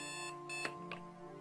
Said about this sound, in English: John's alarm is set to 6 a.m. It goes off at 12 a.m.